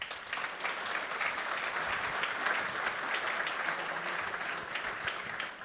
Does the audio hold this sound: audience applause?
yes